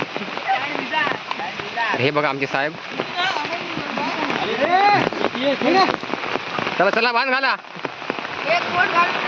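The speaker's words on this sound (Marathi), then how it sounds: "तर बघा आता पाऊस पण भरपूर येतो" Heavy monsoon rain pours steadily outdoors in rural Konkan during Ganesh Chaturthi, where villagers build an earthen bund across flowing water; a constant broadband hiss runs throughout beneath loud, continuous conversation.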